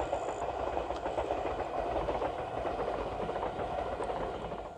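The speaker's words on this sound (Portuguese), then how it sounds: "Tava passando o trem aí," A train passing by, a loud continuous rumble and rattle of rail cars with faint rhythmic clacking, steady throughout.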